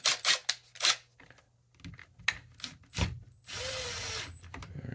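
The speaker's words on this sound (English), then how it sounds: "We'll tighten the 8mm back down." Ratchet wrench snugging an 8mm bolt back down on a chainsaw during a fuel-line replacement, several quick bursts of clicking followed by a short whirring spin of the tool, close and fairly quiet.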